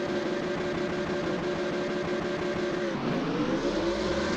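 Race cars in a racing video game roar at the race start at Monza, with a dense, steady engine drone that rises in pitch as the pack launches and accelerates.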